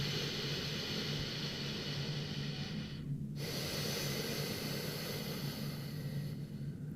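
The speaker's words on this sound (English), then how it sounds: "think of breath going in through your nose and then out, so big breath in. Exhale." Slow, deep yoga breathing, drawn in through the nose and let out in a long exhale, heard close and steady over a continuous background hiss with a brief pause partway through.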